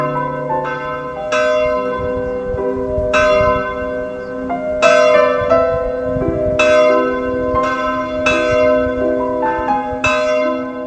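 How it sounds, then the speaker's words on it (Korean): A loud bell rings out about nine times at an unhurried, uneven pace, each clear metallic strike leaving a long humming tail that overlaps into the next, heard alone without voices. "종소리도 외로워서 울려 퍼진다."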